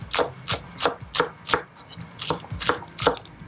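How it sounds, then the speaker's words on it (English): A knife chops green onions on a cutting board in a steady rhythm of about eleven crisp, close thuds, roughly three per second, with no voices. "I don't mind cutting green onions."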